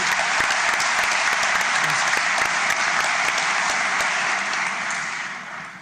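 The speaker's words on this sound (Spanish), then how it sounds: "Recibamos pues con fuertes palmas al congresista Jorge del Castillo" Loud, continuous applause from an audience at a parliamentary book launch, thick clapping that stays strong and begins to taper off in the final second.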